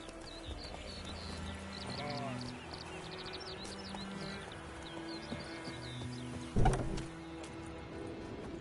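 Roach the horse gallops in The Witcher 3, hooves clip-clopping in a steady quick rhythm at low level, with a brief louder knock partway through and faint background sounds.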